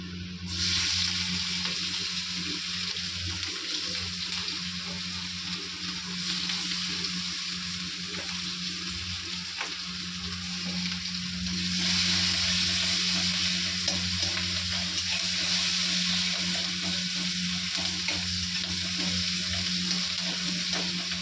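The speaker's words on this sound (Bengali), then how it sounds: "আর এখন আমি কড়াইতে তেজপাতা দিয়ে দিয়েছি।" Bay leaves fry in hot oil in a wok, giving a loud, continuous sizzle with a steady hiss that swells slightly partway through, accompanied by a low background hum and no talking.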